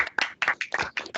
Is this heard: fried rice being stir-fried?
no